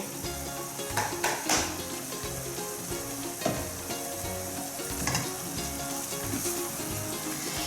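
Mushrooms for beef stroganoff hiss loudly in a hot pan, a dense steady sizzle broken by occasional stirring scrapes and knocks close by.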